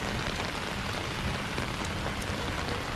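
Rain falling steadily outdoors while walking, a dense, even hiss of drops on surfaces from start to finish, with no voices.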